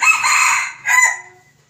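A red junglefowl rooster crows loudly and close by, a bright two-part call that fades out, with nothing else heard.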